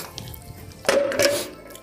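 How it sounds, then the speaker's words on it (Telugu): A bucket scoops water inside a cave temple: a short knock and a splash, then a second splash, close by and brief. "ఈ బకెట్తో ఇలా వాటర్ తీసుకొని"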